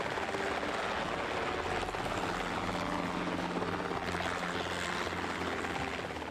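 Helicopter with its main and tail rotors spinning at high speed, a steady loud broadband roar with rotor chop running continuously throughout.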